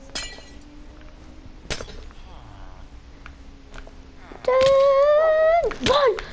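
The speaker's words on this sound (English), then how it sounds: "Can we just break out the glass?" Glass blocks shatter in Minecraft in two or three sharp crashes, followed by a loud rising siren-like tone that sounds alone.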